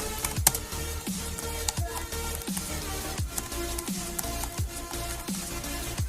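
Someone types a database query on a computer keyboard at close range, with a steady run of crisp keystroke clicks and a few heavier key presses.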